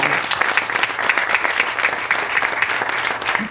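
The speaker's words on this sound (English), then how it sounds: "so one more round of applause." A groundbreaking ceremony crowd gives a round of applause, dense and steady clapping from many hands that stays even throughout.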